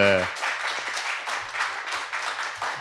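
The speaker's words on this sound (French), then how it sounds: "Voici, on peut l'applaudir, Sylvie Payette" An audience at a literary cabaret applauds a judge coming to the stage, lively clapping that follows a brief voice and carries on steadily for a few seconds.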